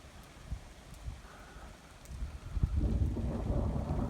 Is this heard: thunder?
yes